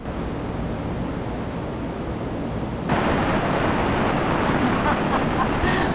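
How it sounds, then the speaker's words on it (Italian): Heavy rain pours down on a beach, a dense roaring hiss that suddenly grows louder and brighter about halfway through, then stays intense and steady. "È iniziato a piovere di brutto"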